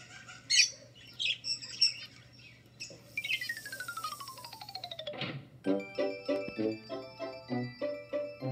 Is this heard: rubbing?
no